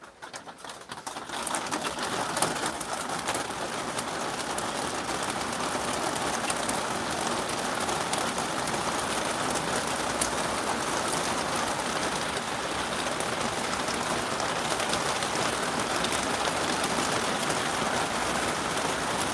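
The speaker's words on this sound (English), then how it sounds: "Here comes the rain again." Heavy rain pours steadily outdoors as a dense, continuous hiss that stays loud and even throughout, with birds cooing faintly alongside and no voices.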